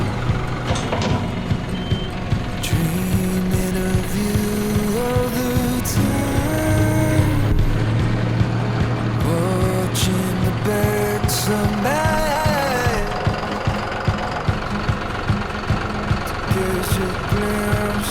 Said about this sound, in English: Let's get the tractor and get to work.